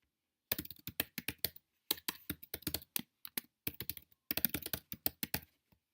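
Someone types a book title on a computer keyboard in several quick bursts of crisp, close key taps, separated by short silent pauses.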